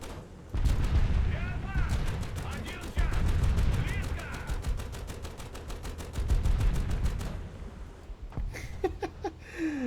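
Tank guns fire in the War Thunder video game as rapid, evenly spaced bursts of loud automatic fire. Heavier booming shots come through close and dominant.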